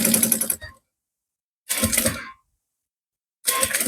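A sewing machine stitches a sublimated A4 bag (35x25x10 cm) in three short, close bursts of rapid mechanical whirring, separated by silent pauses.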